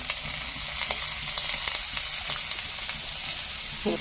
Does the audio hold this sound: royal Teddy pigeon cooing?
no